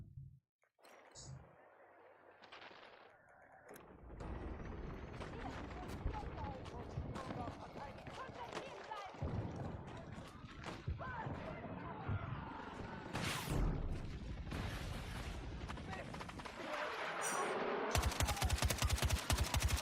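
Machine gun fire in Battlefield 6, repeated sharp bursts of automatic shots with crashes and impacts, mid-distance and fairly loud, continuing through most of the stretch with voices heard in between.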